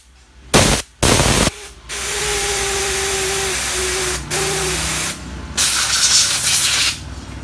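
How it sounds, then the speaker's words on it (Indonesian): An air compressor nozzle blasts bursts of loud hissing air onto a motorcycle fuel filter pump being cleaned, several short blasts, then a long steady spray and a final burst, close and harsh, with no talk. "Langsung saja kita semprot dengan kompresor ini juga."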